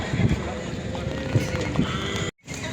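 A horse at the Sokuluk horse market, with soft hoof clops and shuffling amid outdoor crowd chatter and wind, the sounds close but partly masked by surrounding voices, cutting out briefly near the end.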